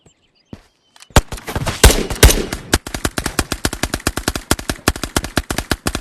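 Rapid automatic gunfire in a video game rattles in close, loud bursts, a few single shots first, then a long fast string of regular rounds, with no talking over it.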